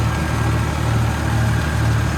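A tractor engine idles steadily and close, a low droning rumble with a faint regular pulse, alone and without any talk.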